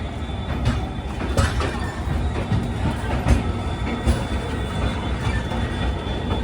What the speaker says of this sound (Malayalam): 15 മിനിറ്റത്തെ സ്റ്റോപ്പിന് ശേഷം ഗുവാഹട്ടി റെയിൽവേ സ്റ്റേഷനിൽ ഇതാ ട്രെയിൻ എടുത്തു.